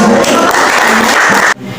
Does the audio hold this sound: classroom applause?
yes